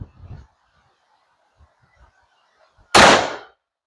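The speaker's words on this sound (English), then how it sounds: "This rifle certainly has a pop to it, especially when you're not the one shooting it." A single loud Soviet and Imperial Mosin Nagant rifle shot cracks out near the end, a sharp close blast with a brief tail, after a few faint scattered thumps and quiet movement.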